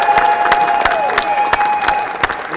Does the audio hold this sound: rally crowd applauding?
yes